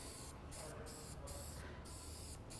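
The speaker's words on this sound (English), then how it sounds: "I can simply spray the surface and it's going to give a nice even coverage." Chemical Guys Black on Black aerosol is sprayed onto a Porsche 911 Carrera 993 engine in five short, even hissing bursts at a steady pace, close and alone without talk.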